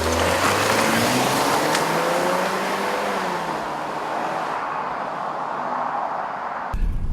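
A 2014 Ford Escape driving on the road, with a steady, fairly loud hum of engine and road noise that shifts slightly near the end. No one talks.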